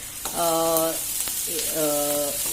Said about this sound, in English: because we are cooking them directly on the flame and not on the cooker